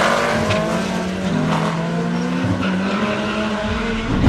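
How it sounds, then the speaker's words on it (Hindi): Cars doing wheelies roar loudly up close, engines revving and shifting pitch while tires squeal and skid, with a sharp burst at the end. "दोस्तों, मोटरसाइकिल्स के बाद अब जरा गाड़ियों की व्हीलिंग के मजे भी ले लें।"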